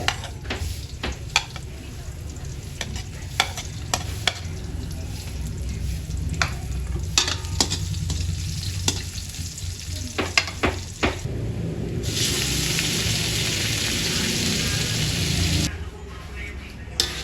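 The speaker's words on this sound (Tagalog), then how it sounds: "magigisa lang ako ng bawang at sibuyas" Garlic and onion sautéing in a pan for pork estofado, with a steady loud sizzle, scattered sharp stirring clicks, and a surge of hissing crackle toward the end.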